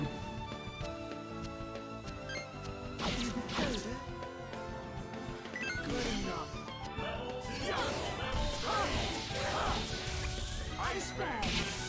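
Crashes and whacks from breaking through a door in Baten Kaitos Origins ring out over game music, several sharp impacts clustered toward the second half, with voices talking in the background.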